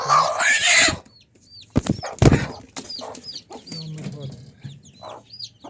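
Hen with her chicks clucking near an earthen coop, with soft chick peeps and short bursts of rustling or flapping mixed in throughout.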